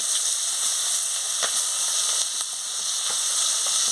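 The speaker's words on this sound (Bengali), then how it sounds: "আমি পেঁয়াজ কুচিটা দিয়ে দিচ্ছি" Chopped onion hitting hot oil in a village kitchen pan, giving a loud, steady sizzle and hiss with faint crackling pops throughout.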